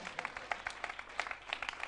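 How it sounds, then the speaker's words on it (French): A live-show audience claps for the sound technician in a short, faint burst of scattered applause with sharp individual claps, no voices over it. "Au son, on peut l'applaudir très fort"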